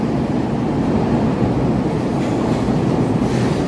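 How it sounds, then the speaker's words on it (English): An elevated train rolls past in Chicago's Loop, a steady loud rumble with rail clatter filling the whole stretch, close by and without talk. "I can't tell what type of train that is."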